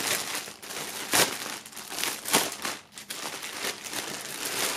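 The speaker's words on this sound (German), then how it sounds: "als erstes holen wir mal hier den Hoodie aus der Folie." A hoodie is pulled out of its plastic wrap during a box unboxing, the film crinkling and rustling steadily at close range with a few sharper crackling bursts.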